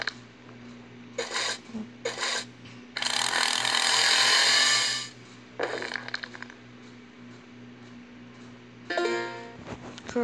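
Several short bursts of a mechanical drilling whir, one long sustained grinding burst in the middle, separated by quiet pauses; drill sound effects in a prison escape video game.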